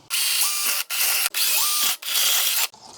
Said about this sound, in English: I think this calls for the step bit